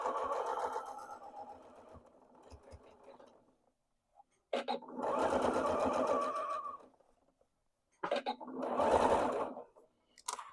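Home sewing machine stitching a three-tiered skirt from Simplicity pattern 1110, running in three separate bursts of steady mechanical whirring with short pauses between, close and fairly loud, no talking.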